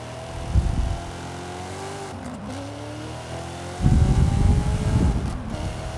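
A 6.2-litre V8 car engine in the Forza Horizon 5 racing game rumbles at steady idle, then swells into two louder revving bursts, first briefly and later for a sustained stretch, with no talk over it.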